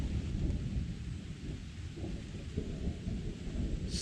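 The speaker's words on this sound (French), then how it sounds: "L'orage gronde." Thunder rumbles through a Gabonese jungle during a midday storm, a deep, rolling low growl with rain hissing steadily underneath, close and continuous throughout.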